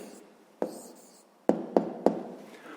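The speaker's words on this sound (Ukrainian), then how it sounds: "Гаразд, записуємо відповідь." A pen writing down an answer to a sixth-grade maths exercise, giving a few sharp taps and short scratchy strokes up close in a quiet room, with no talking.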